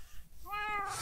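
A cat from the Minecraft video game gives a single clear meow, a short rising then falling cry close up, rising out of quiet background game sounds.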